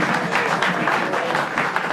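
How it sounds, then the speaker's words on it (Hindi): A studio audience on a comedy escape-room show gives a big round of applause for a guest, loud and sustained clapping with some faint voices mixed in. "राजीव के लिए तालियां। Big round of applause।"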